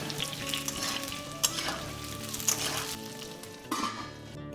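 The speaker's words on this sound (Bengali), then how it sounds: "ফোড়ন মিনিট দুই ভেজে আলু মিষ্টি আলু আর কুমড়ো দেবে" Chunks of potato, sweet potato and pumpkin fry in a wok with a loud, continuous sizzle. Occasional scrapes and clinks of stirring rise above it, and there is no talking.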